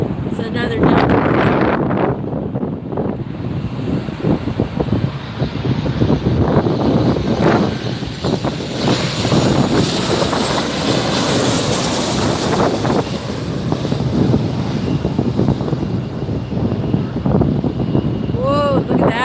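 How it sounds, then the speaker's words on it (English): A Delta airliner arriving at LAX: a loud, sustained jet roar and rumble passing nearby, with heavy wind buffeting on the microphone throughout. "Got another arrival coming in right over the top of that billboard there. It's another Delta flight."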